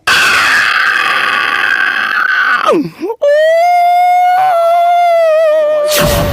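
A voice mimics a door creaking open, with a long, loud, strained squeal that dips, then a second drawn-out wavering creak and a harsh burst at the end.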